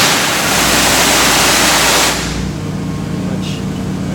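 A hot water pressure washer running through a surface cleaner, putting out about 9 gallons a minute at over 200 degrees, gives a loud, steady hissing spray roar close by that drops slightly in intensity partway through.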